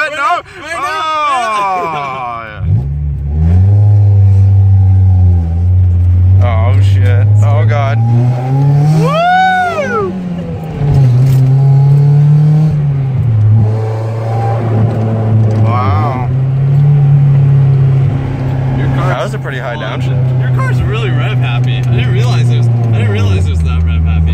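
A Nissan 350Z engine revs and accelerates hard, its loud droning note climbing and holding through several long pulls, with excited voices inside the car over it.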